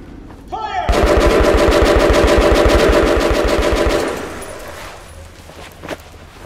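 Rapid automatic gunfire in the shooter game Metro Last Light: a loud, dense burst of fast repeated shots lasting about three seconds, then fading, with no talk over it.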